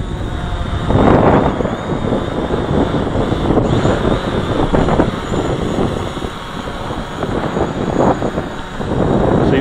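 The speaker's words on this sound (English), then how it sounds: "Large wind" Strong wind buffets the microphone outdoors in extreme cold while a Mavic Pro drone flies, a steady roaring rush with gusty swells and a faint high propeller whine running through it.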